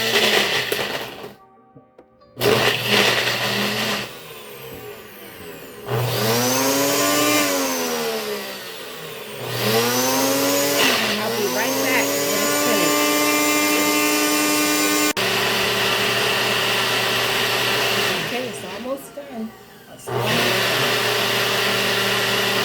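Drink machine blending a pineapple wine slushy, a loud motor roar that whines upward in pitch as it spins up, cuts out and restarts in several bursts with short pauses between.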